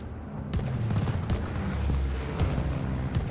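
Rapid gunfire from a shooter video game, with repeated shots and dull booms overlapping in a dense, continuous barrage at steady loudness, a few sharper cracks standing out.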